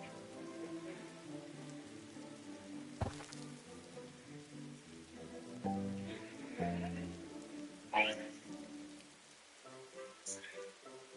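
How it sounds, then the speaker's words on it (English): Rain patters steadily in Roblox's Grow a Garden, a soft constant hiss of drops under layered game music, with a few sharper taps standing out now and then. "It's raining."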